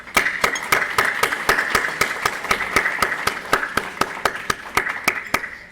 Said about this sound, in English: So I just want everybody to get a round of applause.